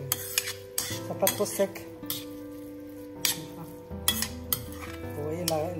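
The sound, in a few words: stirring rice stuffing for squid in a pan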